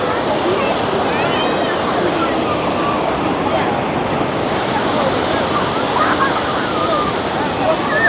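Ocean surf breaking on a crowded Kuta Beach in Bali, a steady broad roar of waves washing in continuously, heard up close and loud with faint crowd murmur behind.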